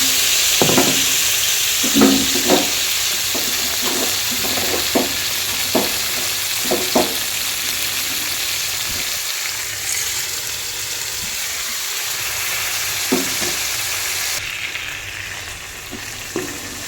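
Washed rice with garlic paste frying in a pot for winter khichuri, a loud constant sizzle broken by a regular series of scraping stirs from a spoon.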